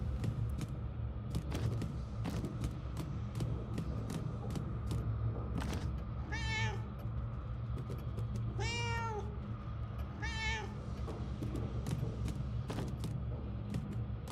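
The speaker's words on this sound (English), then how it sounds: "I have the ability to meow." A cat in the video game Murdered: Soul Suspect meows three times, clear drawn-out calls over a constant low mechanical hum and scattered clicks, with no one talking.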